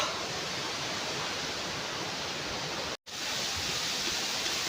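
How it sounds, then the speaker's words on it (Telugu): Muthyamdhara waterfall roars close by in the forest, a dense, steady wash of falling water that drops out for a split second and then continues unchanged. "మనమైతే వాటర్ ఫాల్ పక్క దగ్గరికి పక్కకు వచ్చేసాం మనకైతే పక్కనే ఉంది వాటర్ ఫాల్"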